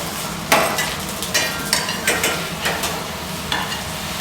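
Food sautés steadily in a dry, hot pan, with repeated scraping and stirring clatter from a utensil every half second or so.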